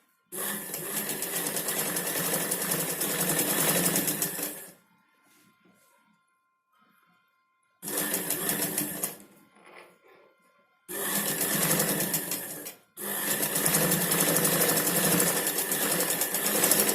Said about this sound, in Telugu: ఈ విధంగా స్టిచ్చింగ్ చేసుకోవాలి.